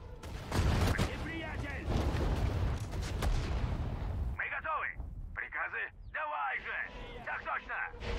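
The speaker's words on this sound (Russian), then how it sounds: "Стреляем из орудия" Artillery gun firing in the Sudden Strike 4 war strategy game, a burst of loud booming blasts in the first four seconds, followed by in-game radio-style unit voices speaking.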